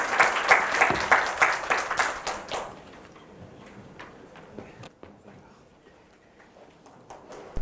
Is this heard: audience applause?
yes